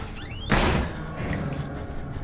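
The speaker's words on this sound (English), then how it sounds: "Why can't I ever close doors slowly?" A door slams shut with one heavy thud inside a dark asylum in the horror video game Outlast, preceded by a creaky scrape and followed by a lingering hollow rumble of room tone.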